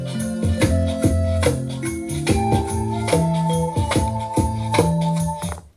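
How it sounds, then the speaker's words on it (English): A beat played on an MPC: steady punchy drum hits looping over a deep bass line and sustained melodic layers, loud and continuous with no talking. "The beat sounds like this."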